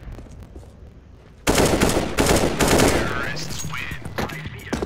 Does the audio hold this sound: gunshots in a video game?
yes